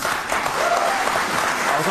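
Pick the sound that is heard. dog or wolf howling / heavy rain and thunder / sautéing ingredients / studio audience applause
studio audience applause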